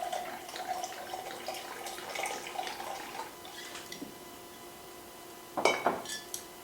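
Southern Comfort free-poured into a mixing glass for a Manhattan, a soft trickling stream, with a sharper clink of glassware near the end.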